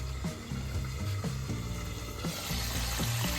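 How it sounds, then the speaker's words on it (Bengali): Chicken masala for Hyderabadi masala chicken is stirred in a pan over low gas after simmering covered, with soft repeated scraping strokes of a spoon over a wet, gentle sizzle that grows slightly louder near the end; nobody speaks. "এবার খুলে আমি নেড়ে দেবো"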